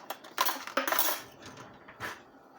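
A tablespoon is pulled out among other cutlery in a kitchen, with a few bright metallic clinks and rattles close by, then a final single clink, and no talking.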